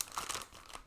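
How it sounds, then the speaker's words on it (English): Bubble wrap being peeled open makes a soft, close crinkling and rustling in a brief, irregular burst. "Inside bubble wrap."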